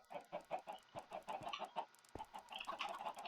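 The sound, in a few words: chicken clucking in Minecraft video game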